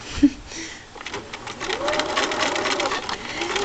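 A sewing machine stitches back and forth over a seam on a miniature-scale elastic-waisted skirt, giving a steady, close, fairly loud mechanical whir that runs almost without a break.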